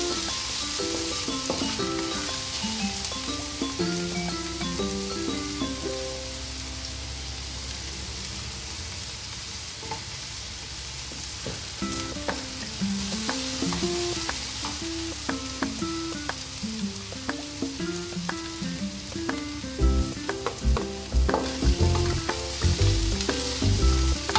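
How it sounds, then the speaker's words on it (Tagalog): Onion frying in a pan for Pinoy-style pasta in tomato sauce, a continuous close sizzle with crackling pops and occasional stirring clatter that grows busier toward the end. "We will fry our onion until fragrant."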